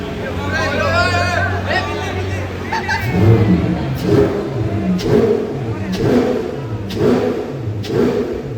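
A Ferrari 812 at a car show, its engine revved in a series of sharp, loud blips at a steady rhythm, with crowd chatter around it.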